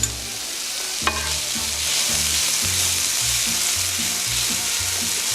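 Huevos rancheros ingredients sizzle steadily in canola oil while being stirred, a close, constant frying hiss broken by the clack of a utensil against the pan.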